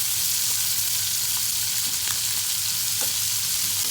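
Chicken pieces for lemon pepper chicken fry in a pan with a steady, close hiss and sizzle, with faint pops and crackles scattered through the constant bubbling.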